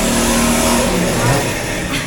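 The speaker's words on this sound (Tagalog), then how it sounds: "Grabe yung motor. Di ba bawal na yan?" A loud street motorcycle engine revs and roars nearby, rising and falling over two seconds with people talking underneath.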